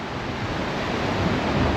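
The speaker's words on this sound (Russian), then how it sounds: "Смотри, здесь сильные волны, а этот остров тормозит волны" Strong sea waves break on a beach at Ayia Napa, Cyprus, in a steady, loud surf roar with wind buffeting the microphone.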